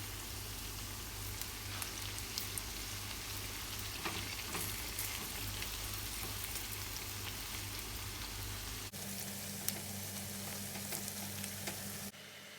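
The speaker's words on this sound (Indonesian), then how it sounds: "Digoreng sampai matang" Bakwan vegetable fritters made from leftover vegetables deep-fry in hot oil, giving a steady, close crackling sizzle that runs continuously and shifts slightly in tone near the end.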